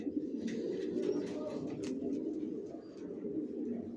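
Racer pigeon chicks coo softly and continuously close by, a low, throaty murmur that never stops, with faint scattered rustles behind it.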